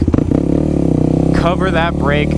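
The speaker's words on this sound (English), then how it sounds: "I bring the throttle back on a little bit so I don't slam down on the suspension." A Yamaha WR250X dirt bike's engine revs up during a wheelie, a loud close throbbing drone that rises in pitch; someone talks over it throughout.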